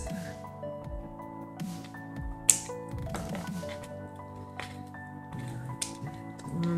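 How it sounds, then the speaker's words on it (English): Scissors snip through dehydrated Phalaenopsis orchid roots, giving several sharp clicks and crunchy cuts scattered among rustling handling noises, up close and over a faint steady background hum. "My scissors."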